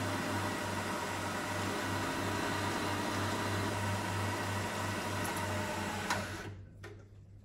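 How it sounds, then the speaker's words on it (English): Machining the faces of brushcutter engine caps for a 300cc V12 build, a steady mechanical whir with a low constant hum and a faint cutting hiss, running evenly before winding down near the end, no talking. "Just machining that face and that face on these."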